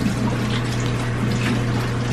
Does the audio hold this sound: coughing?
no